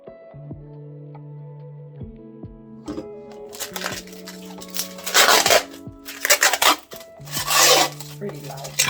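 A packaged three-way mirror is unwrapped, with loud bursts of crinkling, rustling plastic and paper rubbing that grow stronger and come in waves, while steady music plays underneath.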